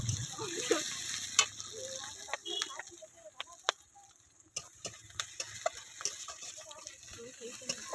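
Garlic paste and chopped green chilies frying in a pan with onion, a quiet sizzle under irregular spatula taps and clicks, close but soft, with a faint voice murmuring in the background.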